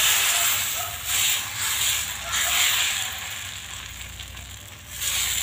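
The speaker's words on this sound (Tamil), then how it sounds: "இப்போ தோசை எப்பவும் போல் ஊற்றிக்கலாங்க." Sorghum dosa batter spread on a hot griddle for chola dosai, giving a steady broad sizzling hiss that swells and eases in soft waves, close and alone with no voices.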